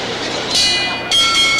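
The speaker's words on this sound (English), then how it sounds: "The bell for round two." A ringing boxing ring bell signals the start of round two at the Muhammad Ali vs Joe Frazier rematch, its sustained tone sounding in two bursts over loud, steady crowd roar.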